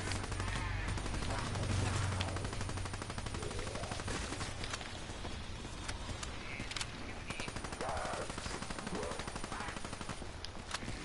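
Rapid automatic gunfire from a Weevil gun in a video game rattles almost without pause, loud and dense for the whole stretch, with a few brief shifts in intensity and no talk.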